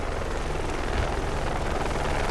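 Helicopter in the Project Reality military game, a steady loud rotor and engine drone filling the whole stretch without break.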